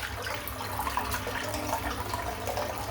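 Cold tap water pours steadily into a sink as it fills for a cold-water shave, a constant close rushing splash that holds at an even level throughout.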